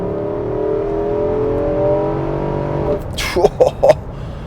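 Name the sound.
V8 engine accelerating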